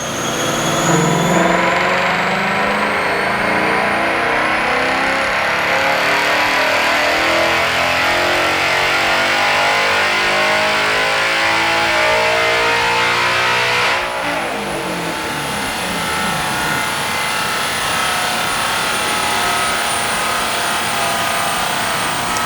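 A 2024 Ford Mustang GT with K&N filters revving on a dyno, a loud V8 roar climbing steadily in pitch through the gears, then a sudden drop as the throttle lifts and the engine winds down.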